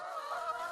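Chickens in a flock cared for by elderly people in Taipei social housing, softly clucking and calling at a moderate distance, a steady low murmur of fowl sounds with no speech.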